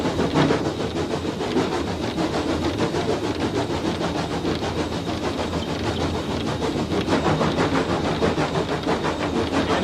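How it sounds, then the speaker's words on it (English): A train engine labours up a steep grade of about 1 in 34, giving a heavy, rhythmic chuffing rumble that pulses steadily under a broad wash of mechanical noise, close and sustained. "you'll hear the engine start to labour in a second"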